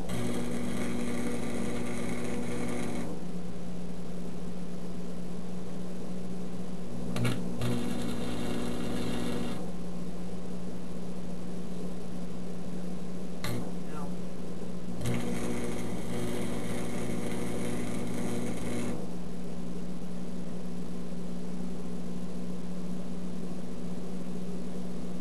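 Welding on a forge frame built from scrap metal comes in long steady buzzing bursts, three main runs separated by quieter gaps, with a constant hum underneath and no talking.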